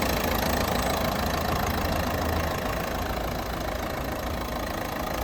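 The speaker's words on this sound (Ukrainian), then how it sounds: "Двигун не митий, не бритий, сухий двигун, чисто працює." A diesel minivan engine idles continuously with a steady, low, knocking drone and no variation, close by and fairly loud.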